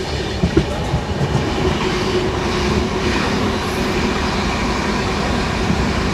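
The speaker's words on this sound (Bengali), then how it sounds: "আমাদের ট্রেন ছাড়লো।" The 12378 Padatik Express pulling away from Aluabari Road on its run from New Jalpaiguri toward Sealdah, a loud steady rumble of wheels on rails with faint clickety-clack from inside the coach, no voices.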